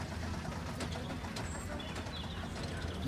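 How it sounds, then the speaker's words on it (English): Birds coo softly in Planet Coaster 2 while a roller coaster climbs its lift hill, faint and low under a wash of steady background noise. "Look at all the birds."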